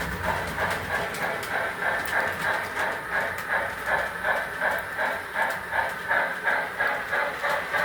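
A small model train runs steadily along its track, with a quick repeating clickety-clack rhythm over a constant whirring hum, close by and fairly loud.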